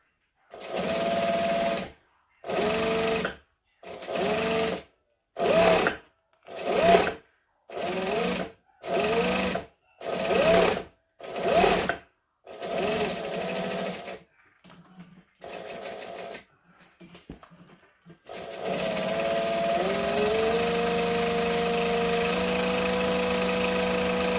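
A sewing machine stitches an all-vinyl bag handle in a run of about a dozen short, loud, close bursts with quick pauses, then a few faint stutters before one long continuous stretch of stitching.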